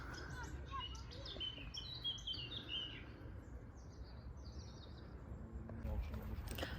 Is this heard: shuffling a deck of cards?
no